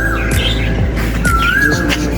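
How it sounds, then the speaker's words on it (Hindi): An Asian koel calls loudly nearby with a rising whistled note, accompanied by other chirps and a low background rumble. "कोयल की आवाज़ सुन रहे हैं आप? कितनी प्यारी आवाज़ है।"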